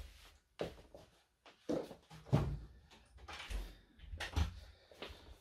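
A door is handled and shut indoors, with several knocks, bumps and shuffling footsteps in irregular bursts, moderately close, while the room is otherwise quiet.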